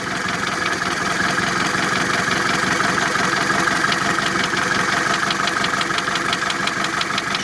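A steady car engine running at idle with a fast, regular valve ticking or tapping over the mechanical hum, continuous and close.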